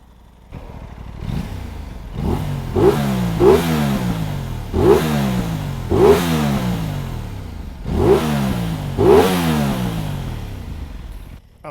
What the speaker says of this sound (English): Okay, just wanted to give you a rev test.